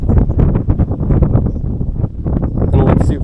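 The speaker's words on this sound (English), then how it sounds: "It's also very windy here" Steady wind buffets the microphone at a harbor near Osaka, Japan during a fishing outing, a continuous broadband rumble and rustle with gusting surges running through the whole stretch.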